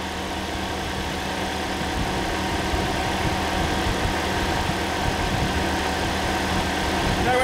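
A Toyota Corolla's radiator fan gives a steady mechanical whir with a low engine hum underneath, running without a break, close by and fairly loud.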